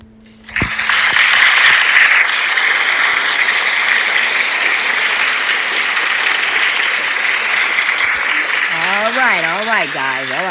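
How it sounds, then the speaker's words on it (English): Sustained clapping from an audience at a talk, a dense steady patter of many hands that starts abruptly and carries on, loud and close, with a voice speaking briefly near the end. "Enough clapping."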